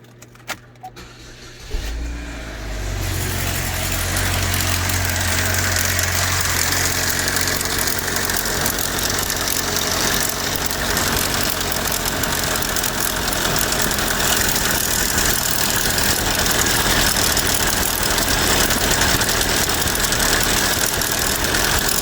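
A Magic Equinox engine with bad timing chains starts and settles into a steady, loud idle with a rattling, knocking undertone that runs continuously, close by and alone.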